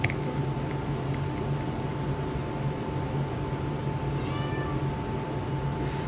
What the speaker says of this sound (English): It's my cat meowing in the background there.